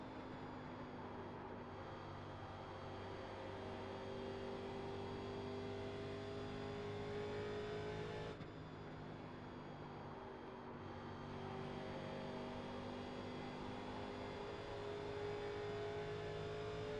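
A race car engine in the iRacing simulation at Indianapolis drones steadily at high revs, a continuous whining tone with a brief dip midway before resuming, fairly quiet and alone.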